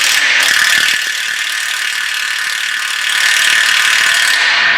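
Ratchet wrench clicking steadily as it turns a bolt during a clutch replacement on a Mazda Miata MX-5, a loud, close, continuous run of rapid pawl clicks filling the whole stretch.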